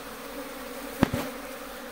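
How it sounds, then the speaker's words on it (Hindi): A swarm of Asian honey bees (Apis cerana indica) hanging at a house window, giving a faint, steady buzzing hum with a brief louder burst as a bee passes close. "तो यहाँ भी हम इस मधुमक्खी के स्वाम को उठाएंगे, बॉक्स में डालेंगे"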